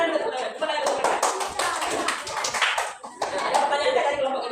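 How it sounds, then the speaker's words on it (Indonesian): A classroom group claps their hands in rhythm as part of a clapping routine, sharp repeated claps over lively voices and light laughter. "Tepuk tangan, tepuk tangan, tepuk tangan,"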